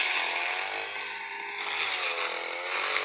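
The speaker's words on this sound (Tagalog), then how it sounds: "Grass cutter po niya." A gas-powered grass cutter with a steel blade runs steadily and close by, cutting grass along a court with a sustained high-pitched engine whine and no pauses.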